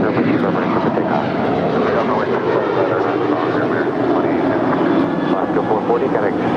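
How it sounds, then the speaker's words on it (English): An Alaska Airlines Boeing 737-800 departs from LAX on a circuit departure, its loud steady engine roar filling the air continuously as it takes off. "That was Alaska 440 departing to Cancun. It's a 737-800."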